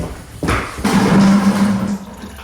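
Coolant drains from a Porsche Boxster water pump hose, splashing and trickling in a short, close gush of liquid.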